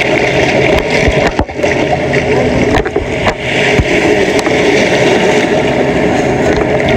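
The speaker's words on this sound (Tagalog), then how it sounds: "Watching sa waves" Sea waves washing onto Boracay beach, a loud, continuous rushing surge with wind-like noise and occasional thumps, heard up close.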